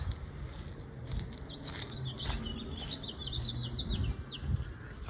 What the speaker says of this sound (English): I just love when you can hear birds singing.